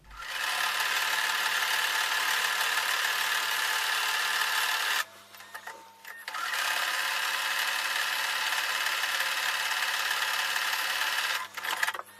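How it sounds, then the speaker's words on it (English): A sewing machine stitches a quarter-inch seam on quilt block pieces with a steady, fast mechanical whir. It stops briefly near the middle, then resumes and runs at an even pace until it halts near the end. "I'm going to take those over to the sewing machine and I'm going to sew a 1/4 inch seam"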